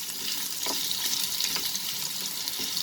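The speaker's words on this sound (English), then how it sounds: "Just let us fry these potatoes over high flame" Potatoes frying in a pan over a high flame give a steady hiss of sizzling oil with occasional soft stirring clinks, close and moderately quiet, no speech.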